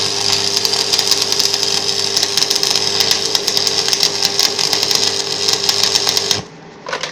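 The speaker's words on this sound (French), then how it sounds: "on va remonter sur la soudure là" Steady crackling buzz of arc welding, loud and continuous for about six seconds before cutting off abruptly, followed by a brief faint rustle.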